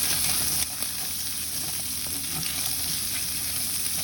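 Pesto sizzling in a pan for Catalan fideua, a dense steady hiss that jumps up as it hits the hot pan and then holds on evenly, close by, with no voice.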